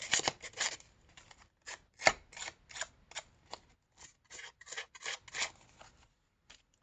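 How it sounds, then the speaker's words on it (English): Scissors scrape and snip along the edges of paper craft tags, making a quiet, irregular series of short rasping strokes and crisp cuts with brief pauses between them, and no one speaks. "And you just got to hold the scissors. You'll get the hang of it, because sometimes you will cut right through"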